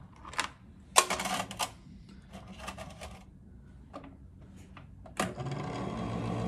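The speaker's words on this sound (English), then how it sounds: "Now we have this L&R dryer." Close clicks and handling of Rolex watch parts, then an L&R watch parts dryer switches on with a sudden start and settles into a steady whirring hum.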